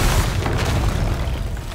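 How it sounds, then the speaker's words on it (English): An explosive barrel detonating in the video game Miasma Chronicles, a loud sustained rumbling boom with dense low-end roar filling the whole moment. "it would be nice if it would also show you the size of the explosion"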